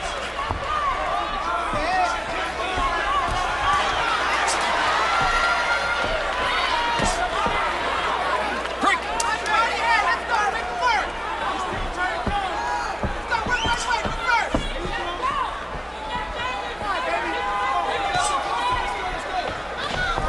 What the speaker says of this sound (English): the crowd is kind of reacting with that same kind of energy